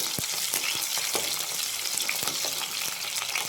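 Whole small shallots frying in a few spoons of hot oil, a dense, loud, continuous crackling sizzle with rapid pops throughout, close up and alone.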